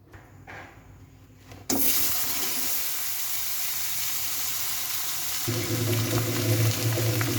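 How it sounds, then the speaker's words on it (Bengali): Vegetables for a rui fish curry with potato and eggplant hit hot oil in a pan, a sudden loud sizzle after a quiet start that holds steady and close, rising slightly near the end. "আগে এই তরকারিগুলো ভেজে নিলে ভালো হয়, তরকারিটা স্বাদ হয়।"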